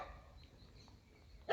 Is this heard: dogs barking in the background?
yes